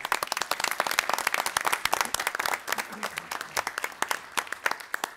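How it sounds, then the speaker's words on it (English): A crowd applauding at a village board of trustees meeting in Arlington Heights, Illinois, many hands clapping in a dense, steady patter that thins toward the end, fairly close and moderately loud. "Let's give them a round of applause."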